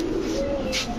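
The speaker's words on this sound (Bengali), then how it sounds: "দেখার মতো কবুতর মাশাআল্লাহ" A pigeon coos briefly and close by at a pigeon seller's; the breeds include red Dobaz hens and pure white birds.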